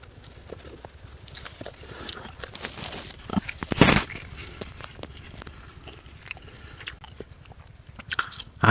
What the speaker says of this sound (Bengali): আমি যে ভুট্টা খেলাম